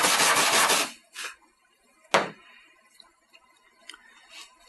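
Electrode of a DF 900 AluSpot aluminum repair welding station being cleaned, a loud close scraping rub for about a second, followed by a short sharp scrape and faint scattered scratches.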